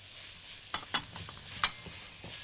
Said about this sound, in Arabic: هحطهم يتحمروا شويه وهحط معاهم الثوم